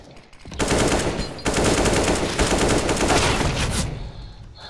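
Rapid, loud bursts of automatic gunfire in the video game CS:GO, a sustained rattle lasting several seconds before trailing off.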